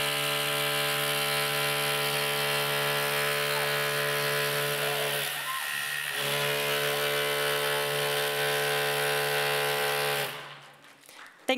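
A Rhino rotary hammer cuts mortar from brickwork, a loud, steady, harmonic-rich mechanical whine that runs continuously for about ten seconds before stopping abruptly.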